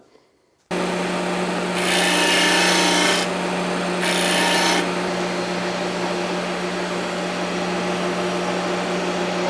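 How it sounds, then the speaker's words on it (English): Wooden edges being sanded round with a steady, close grinding rasp that runs throughout, rising into two louder, harsher passes early on over a constant motor hum, with no talking. "I just gotta sand the edges round and it'll look like that"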